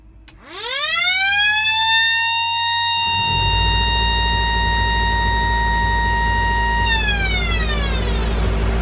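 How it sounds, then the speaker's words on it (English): Stall alarm shared by the BAC111 and Hawker Siddeley Trident airliners: a loud electronic wail that sweeps rapidly upward, holds a steady piercing tone over a low rumble, then falls sharply in pitch near the end, with no talking. "did you know that the BAC111 and the Hawker Siddeley Trident share the same stall alarm?"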